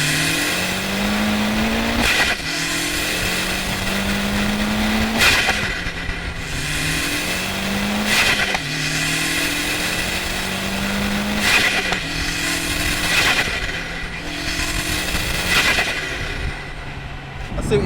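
A tuned 1.8T Seat Leon Cupra R with a Quaife diff accelerates hard down a short straight, its engine climbing through the revs in four loud pulls, each ending in a sharp gear change.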